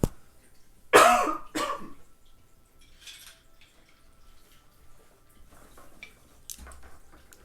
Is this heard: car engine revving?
no